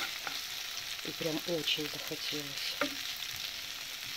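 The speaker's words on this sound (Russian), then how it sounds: "Все, еще чуть-чуть вот так сейчас попассируется это все дело в томатном соусе" Meat and vegetables sauté in tomato sauce for solyanka, giving a steady, soft sizzle and frying hiss while someone speaks briefly over it.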